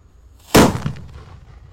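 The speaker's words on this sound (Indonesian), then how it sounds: "Sudah menyala mercon Banaspati level 2" A single sharp bang from a Banaspati level 2 firecracker erupts after a quiet moment, loud and close, followed by a short fading rumble.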